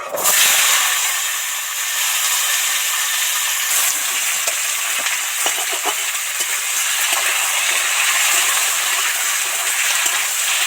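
Kohlrabi, potato and tomato hit hot oil that already holds fried dry red chillies and bay leaves, giving a loud, steady sizzle and hiss that runs unbroken for the whole stretch, with no voices.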